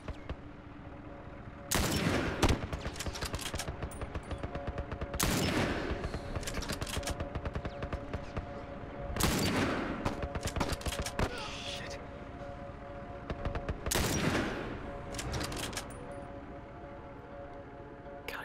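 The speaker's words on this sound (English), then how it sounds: "I think they haven't realized I'm up here shooting." Bursts of gunfire from The Last of Us, a handful of loud clustered volleys spaced every few seconds over a steady low hum, with no talking.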